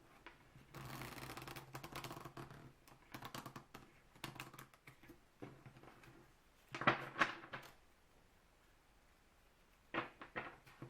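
Tarot cards being shuffled by hand during a card reading: several quick, close riffling bursts with short pauses between them, then a couple of softer, brief shuffles near the end, with no talking.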